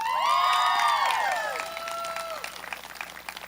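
A school graduation crowd breaks into applause and cheering for a student, a brief burst of clapping with whistles and shouts that fades quickly into scattered claps.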